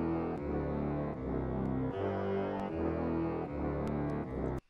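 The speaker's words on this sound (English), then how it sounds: "I added this brass sound that just follows the root notes of the chords." Low, brassy synth tones play sustained notes that change every second or so, following a chord progression, with faint higher clicks on top.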